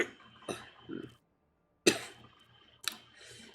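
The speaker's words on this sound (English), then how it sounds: "My cough's coming back." A person coughs in a few short, fairly close bursts, with brief pauses and a gap of near silence between them, during a casual online game session.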